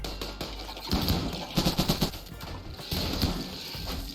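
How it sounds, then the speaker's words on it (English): Bursts of rapid machine-gun fire crackle in several volleys in the video game RimWorld, loud and close, separated by brief lulls. "A wall of gunfire met them."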